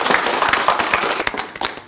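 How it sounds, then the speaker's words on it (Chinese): A crowd at a competition event claps to welcome a company president, a brief burst of close, crisp handclaps with uneven sharp peaks. "接下来让我们用最热烈的掌声欢迎龙先生"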